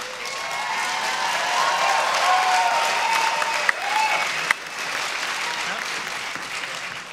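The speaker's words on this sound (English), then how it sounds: "you're applauding a blue screen" A quiz-show audience at a geography bee claps in sustained, dense applause that holds steady throughout, broken by a couple of sharp clicks, with faint talk beneath.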